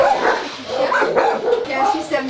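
Dogs barking in the kennels of the SPA animal shelter in Strasbourg, with large pens and small cages, a busy chorus of overlapping yaps and woofs from several animals, loud and close, with people talking among them.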